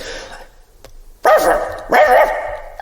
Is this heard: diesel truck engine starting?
no